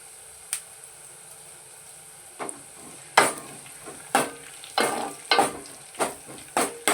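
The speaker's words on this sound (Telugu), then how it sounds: "ఉల్లిపాయ బాగా ఎర్రగా వేగనివ్వాలి ఎండుమిరపకాయ ఒకటి వేసుకుందామండి" Onion and a dried red chili frying in a pan for Telugu-style bottle gourd dal, with a steady low sizzle and a series of sharp, regular spatula scrapes and stirs growing louder toward the end.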